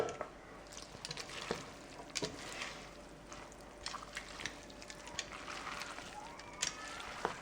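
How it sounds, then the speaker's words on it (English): Angel hair pasta being stirred and tossed with ramson (wild garlic) pesto in a pan, a steady close run of soft wet stirring and scraping with small clicks, no one talking. "we're putting the pesto on top of the pasta, and we're gonna mix it all together"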